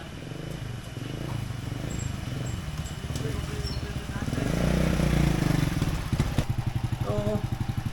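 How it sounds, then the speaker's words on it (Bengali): A motorcycle engine runs after the fuel switch is turned on, a close, steady rapid chugging idle that rises in the middle and then settles, with someone talking over it. "তেল দেওয়ার পরে বাইক স্টার্ট নিছে"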